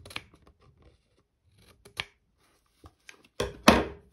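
Scissors trimming the edge of a paper pocket in a printable gothic dolls folio craft, a few sharp close snips spaced apart, ending in two louder cuts, with no talk.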